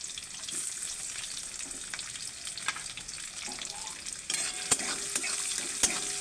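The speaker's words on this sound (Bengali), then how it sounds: "পেঁয়াজটা ভেজে নেব।" Chopped onions with green chilli frying in a pan for a Bengali lau ghonto with morla fish, a steady close sizzle broken by stirring scrapes and occasional sharp clicks of the spoon against the pan.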